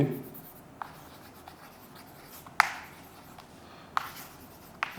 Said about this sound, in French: Donc on va écrire.